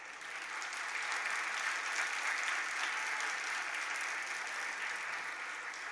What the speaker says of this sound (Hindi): जितनों की तालियां बज रही हैं